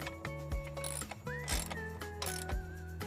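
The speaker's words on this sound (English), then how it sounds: "I can go ahead and completely tighten them with my 1/2-inch socket." A ratchet fitted with a 1/2-inch socket drives lag bolts into a brick wall, giving steady close mechanical clicking and whirring with a repeating rhythmic pattern throughout, no voices.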